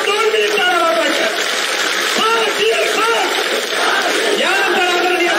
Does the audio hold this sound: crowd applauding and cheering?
yes